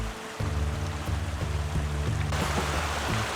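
Mountain creek in a wilderness area rushing steadily and close, a continuous broadband wash with a low engine-like drone running underneath.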